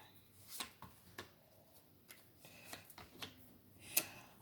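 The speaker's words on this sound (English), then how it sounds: "I'm shuffling these cards again, even though I shuffled them" Quiet, scattered riffling and tapping of tarot cards being shuffled, irregular soft flicks and slaps close by.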